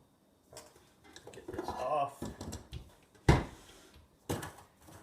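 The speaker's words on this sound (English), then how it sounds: "So just take your spoon, blend it all together." A spoon scraping and knocking in a bowl while blending gluten-free chocolate chip cookie dough, a few soft irregular scrapes and sharper clinks, close by, with a person talking in between.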